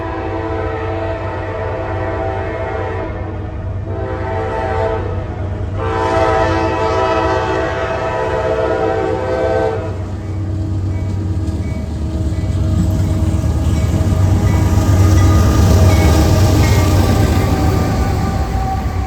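A southbound Norfolk Southern freight train rolls past nearby with a loud, continuous rumble, its horn blaring in several long blasts over the steady roar of the passing cars.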